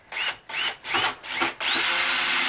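A power drill drives screws into a homemade boom box, whirring up in four short close bursts and then running in one sustained loud spin.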